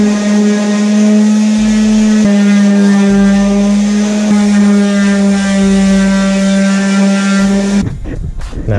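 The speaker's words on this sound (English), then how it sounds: "Now I'm just gonna take my orbital sander here and I have 320 grit sandpaper and we're just gonna sand this down real quick" An orbital sander with 320 grit sandpaper works over a car body, giving a steady, loud, close electric hum with a strong tonal whine that holds for several seconds and then cuts off near the end.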